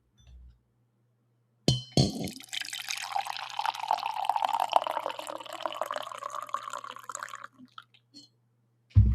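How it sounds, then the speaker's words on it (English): Coffee is poured into a cup, a steady liquid stream lasting several seconds after a short clunk, close and fairly loud with no talk. "I need another coffee pour here."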